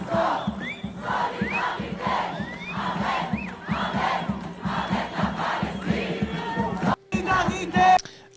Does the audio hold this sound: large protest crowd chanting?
yes